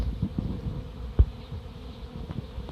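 A low, steady buzz from a honey bee swarm hums close by, dense and continuous, with a brief soft thump midway.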